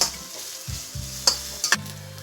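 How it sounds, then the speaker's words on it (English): Chopped onion, ginger and garlic are tossed in a hot pan for Goan sausage fried rice, with soft sizzling and a few sharp spatula scrapes and clicks against the pan. "Let's toss this onion for 2 minutes."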